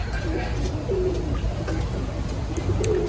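Soft pigeon coos repeat over a steady murmur of background noise, close by and fairly quiet.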